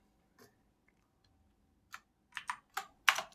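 Keys tapped on a computer keyboard while entering an image-generation prompt: a lone early click, then a growing run of sharp, close taps ending in a cluster of louder strokes, with no talking.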